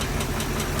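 A running remanufactured GM engine with a suspected lifter tick on the valve side, heard close up as a dense, continuous mechanical roar with a faint, regular ticking pulse underneath.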